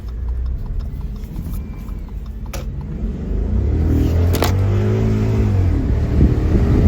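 An Audi A6 4.2 Quattro with a freshly replaced high-pressure fuel pump accelerates hard through a neighborhood, the engine rumble swelling louder partway through and holding a strong, rising drone.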